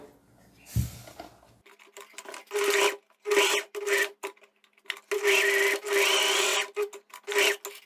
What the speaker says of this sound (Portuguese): agora eu vou fazer o acabamento aqui das pontinhas, ó, dobrando 2 vezes e passando uma costura